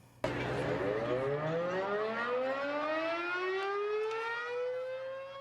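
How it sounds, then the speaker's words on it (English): Civil defense siren opening Osseo's annual spring Easter egg hunt, starting abruptly and wailing loud and steady with a slowly rising pitch sweep, alone without voices. "A siren sounded to begin one of the most adorable searches of spring"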